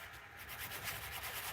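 Sandpaper of 120 grit rubs over a carved wooden bowl in short, close, soft scratchy strokes, a brief continuous abrasive swish.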